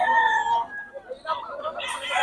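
A fighting rooster crows near and loud at the start, followed by softer clucks and fowl noises from a flock of gamecocks, with a brief rising call at the end.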